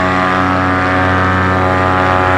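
A paramotor engine and propeller drone close by in a continuous loud, buzzing tone with steady harmonics, the throttle held just slightly open in flight.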